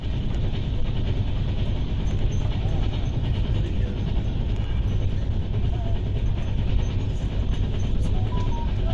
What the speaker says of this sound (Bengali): আমাদের ট্রেন এই মুহূর্তে এসে পৌঁছেছে বাপাটলা স্টেশনে।